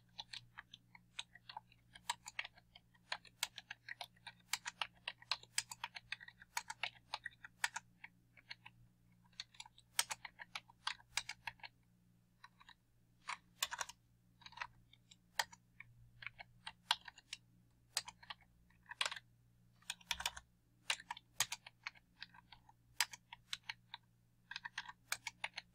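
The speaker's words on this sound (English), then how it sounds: "I need to type in all of the values that are right here into this Excel spreadsheet" Values are typed into an Excel spreadsheet on a computer keyboard: bursts of quick, light key clicks with short pauses, close and fairly quiet over a low electrical hum, with no talking.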